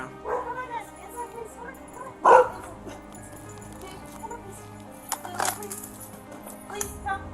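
A dog gives a few scattered yips and whimpers inside a house during a police entry, with one louder sharp burst partway through. Quiet voices and background noise sit beneath.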